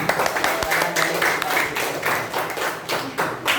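Classroom applause for a student group presenting on Surah Al-Ma'un, a steady patter of clapping hands lasting a few seconds with some background murmur.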